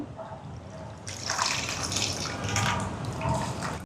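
Tamarind water is poured into a simmering crab and prawn curry, giving a steady splashing, trickling pour that starts about a second in and runs close and fairly loud to the end, with no talking.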